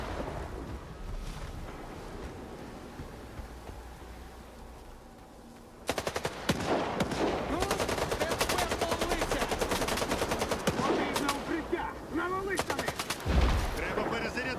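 Automatic gunfire in the video game S.T.A.L.K.E.R. 2 cuts in after a quiet stretch, dense rapid bursts of shots that keep rattling for several seconds, loud and close, with one heavier thump near the end.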